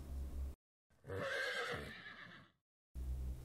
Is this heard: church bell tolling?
no